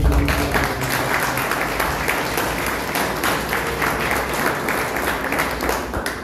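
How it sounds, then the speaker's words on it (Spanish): A church congregation applauds loudly during a wedding service, dense, continuous clapping filling the room with no talk over it. "Cuando le demos un fuerte aplauso a mi hijo"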